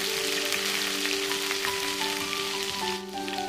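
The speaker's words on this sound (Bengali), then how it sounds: "আদা ও রসুন বাটাটা তেলের মধ্যে একটু কষিয়ে নেব" Ginger and garlic paste sautéing in oil with a little salt for a Bengali mullet fish curry, a loud, dense, rain-like sizzle that stays steady throughout over a faint musical tone.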